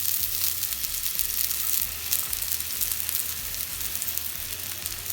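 Porcini mushroom steaks with thyme frying in butter in a hot pan, a steady close sizzle and crackle that holds without pause, with no talking.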